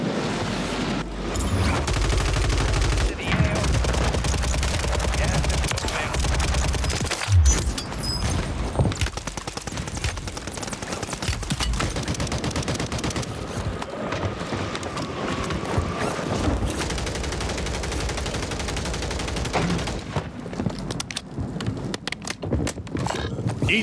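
WSP 9 submachine gun firing in a video game on Rebirth Island: rapid, loud automatic bursts and dense gunfire clatter nearly throughout, with short gaps between volleys and no talking.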